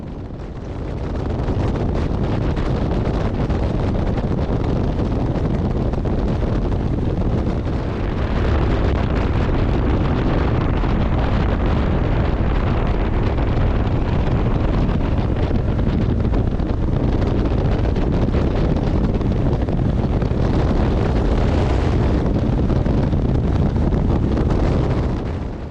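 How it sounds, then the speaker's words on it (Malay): Strong wind buffets the microphone throughout a ride on an Aveta Vanguard V2 motorcycle, a loud, steady broadband roar that never lets up and covers any engine note. "Ikutkan angin kuat masa ni."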